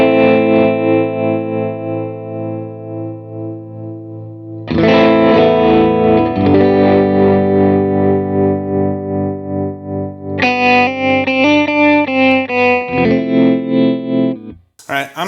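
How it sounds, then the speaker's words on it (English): Guitar through a Line 6 Helix with a basic tremolo effect, sustained chords pulsing in volume, then a louder strummed chord and a run of picked notes, all loud and close. "Just the basic tremolo sounds, I like it a lot."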